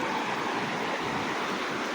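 Floodwater around a house, a continuous broadband rush of flowing water, steady and fairly loud without pauses.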